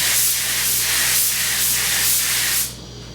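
Spray gun laying down a light first coat of clear coat onto a fiberglass surface, a steady close hiss pulsing with each pass, cutting off abruptly near the end.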